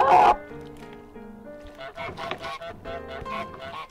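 A cartoonish goose honks in a video game, a loud blast at the start followed by a playful musical score with further quirky honk-like accents.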